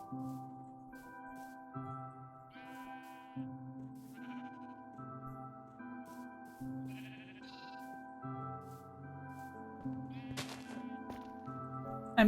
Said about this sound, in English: I'm tempting fate doing 2 sheep at a time here.